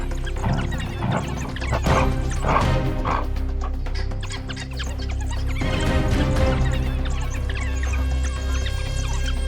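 African wild dogs and hyenas fight over a carcass, a dense, continuous mass of overlapping yips, barks and whines that stays loud and close throughout, with sharp bursts of barking rising out of the din.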